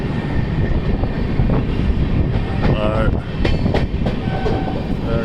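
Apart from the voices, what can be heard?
Indian Railways train running on tracks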